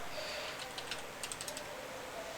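Quick bursts of key clicks on a computer keyboard while JavaScript code is typed. The clicks come in short runs over steady background hiss, faint and close, and no one speaks.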